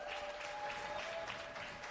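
Steady, dense applause from a crowd in Chicago greets the end of the men's pickleball championship final at an indoor event, sustained clapping filling the whole stretch without pause.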